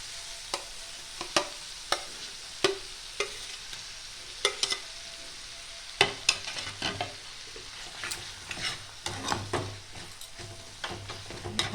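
Eggplant fries in a pan over a medium-to-low flame, giving a constant low sizzle. A utensil strikes and scrapes the pan in sharp, fairly regular taps as it stirs.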